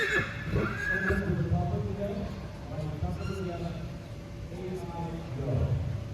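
At a horse expo in Idaho, a horse whinnies loudly and shuffles its hooves while being asked to back up, and a person talks over the movement.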